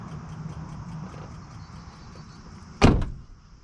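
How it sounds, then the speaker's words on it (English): A door on a Ford F350 truck with a 6.0 Powerstroke clicks once, a sharp close latch sound over a low idle-like hum, loud and near, with no talking. "I wonder if that door has just not been closed with the way it's clicking like that"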